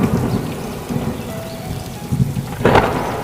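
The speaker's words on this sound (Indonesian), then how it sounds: "Hujan turun dengan deras dan diawali dengan petir dan angin yang" A thunderstorm with heavy rain pours steadily on surfaces, with a low thunder rumble and a sharp crack near the end, close and loud.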